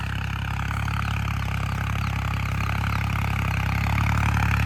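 Steady, close diesel drone of a tractor pulling a chisel plough over a field cleared of paddy: a dense, constant engine rumble with light rattling, swelling a little louder toward the end.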